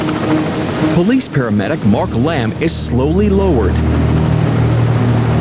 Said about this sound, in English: A police helicopter responding to the boat's distress call takes position over the trawler.